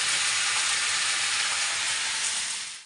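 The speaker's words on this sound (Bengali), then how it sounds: "পেঁয়াজ কাঁচা লঙ্কা ফোড়ন দিয়ে এই যে বসিয়ে দিয়েছি" Onions, nigella seeds and green chillies frying in hot oil give a loud, steady, close sizzle that holds evenly throughout, then tails off briefly at the very end.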